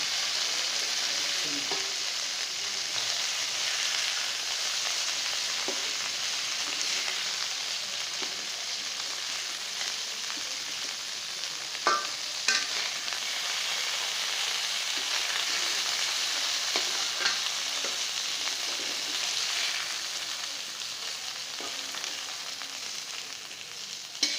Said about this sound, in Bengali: এখন আমার মাছগুলো ভাজা হয়ে গেছে মাছগুলো এখন আমি তুলে নেব